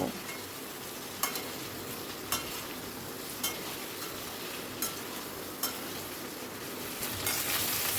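Taro pieces (gathi kochu) fry in hot oil in a pan, giving a continuous sizzling hiss, and a stirring utensil knocks sharply against the pan every second or so.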